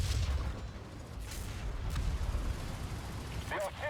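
Distant artillery booms in War Thunder during a T-50 tank battle, heavy low thuds spaced irregularly over rumbling engine noise, fairly faint.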